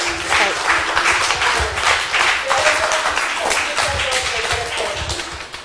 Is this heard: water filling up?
no